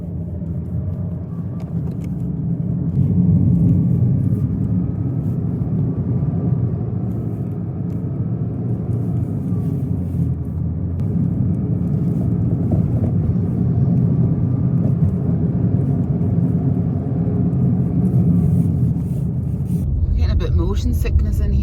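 A car drives a rough, rocky, hilly road on the Isle of Harris, with a steady low engine rumble and road roar inside the cabin that runs throughout.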